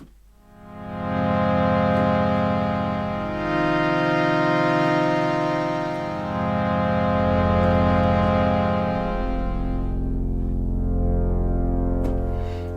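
A sustained, swelling polyphonic Model D–style synthesizer pad with a slow attack plays layered chords with a washy reverb tail, shifting harmony slowly and ringing loudly without any voices.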